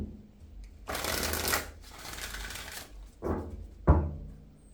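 A deck of oracle cards riffled and shuffled by hand several times in a row, each shuffle a soft papery flutter separated by short pauses, close and fairly quiet with no talk.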